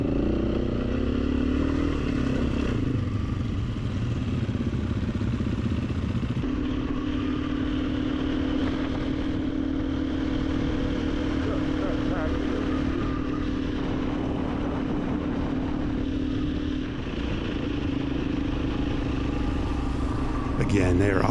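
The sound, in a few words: enduro motorcycle riding offroad in Mongolia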